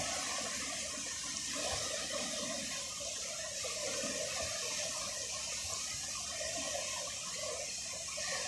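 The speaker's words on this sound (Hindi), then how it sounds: "बहुत ज़्यादा शोर हो रहा है पानी का" Steady rushing water of the Thal canal in Bhakkar, Punjab, Pakistan roars continuously, a dense even wash of sound with no pauses and no voices.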